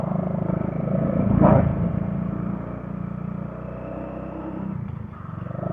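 Motorcycle being ridden along a road, a steady low engine rumble with a brief louder swell near the start, then continuing at an even pace without talk.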